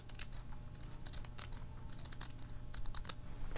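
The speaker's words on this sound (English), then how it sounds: "I'm just going to trim this pretty close to that second row of stitches" Sharp scissors trim a fabric seam allowance close to a row of stitches while sewing McCall's 7908 shorts, giving a quick run of crisp, close snips over a low steady hum.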